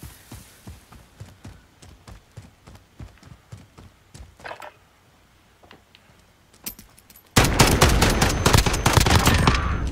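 Gunshots ring out in a video game gunfight: sparse single shots over rhythmic hoofbeats of a horse, then a loud sustained burst of rapid automatic fire at the end.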